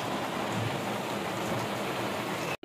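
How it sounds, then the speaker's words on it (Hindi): Heavy rain pours down steadily in a dense, loud broadband hiss that fills the whole stretch without pause, with no voices and an abrupt cutoff at the very end. "जबरदस्त बारिश हो रही है।"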